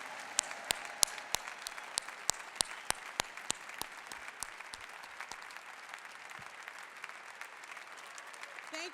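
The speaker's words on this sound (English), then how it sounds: "Can I please hear the house give them a big round of applause?" A theatre audience gives a big round of applause for service workers and janitors at a union event, with sharp, loud individual claps standing out over a dense crowd of clapping that gradually thins and softens toward the end.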